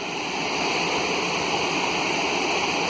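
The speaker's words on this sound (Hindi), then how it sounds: "जो आपको पृष्ठभूमि में बहती हुई नदी दिख रही है" A river flows in the background with a steady, dense rush of water, constant and fairly loud throughout, with no voices over it.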